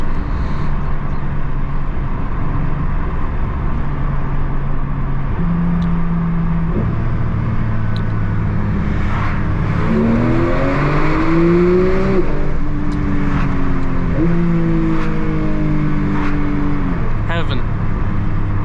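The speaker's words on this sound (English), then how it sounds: "listen to that glorious, naturally aspirated engine again under this bridge" A loud, naturally aspirated Porsche 992 GT3 Touring engine pulls through several gear changes under a bridge, its rising tone climbing and resetting repeatedly, with a voice talking over it at times.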